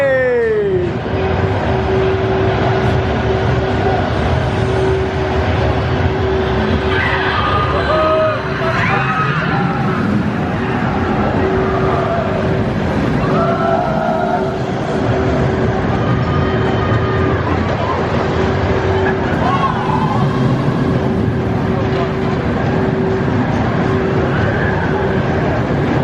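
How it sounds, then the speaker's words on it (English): Icon, a Mack Rides double launch roller coaster at Blackpool Pleasure Beach, rumbles along its track with a steady mechanical whine, riders' voices and shouts mixed into the continuous loud roar. "let's go and ride on this Mack Rides double launch coaster"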